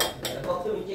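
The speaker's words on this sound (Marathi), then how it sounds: "त्याच्यात टाकतोय आणि दूध हलवत राहायचंय." A utensil scrapes and clinks against a pot while rice is stirred into boiling milk, a few short metallic knocks and scrapes at close range.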